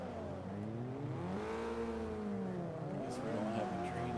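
Several race car engines in Forza 5 rev at the start of a race, overlapping pitches rising and falling in swooping curves, a dense steady roar with no talk.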